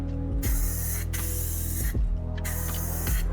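An aerosol spray can fitted with a trigger attachment gives loud, steady hissing bursts, three long sprays separated by brief pauses, close and alone.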